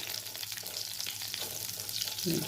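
Cumin seeds and slit green chillies frying in hot ghee, a steady close sizzle with crackling that swells near the end, no voices over it.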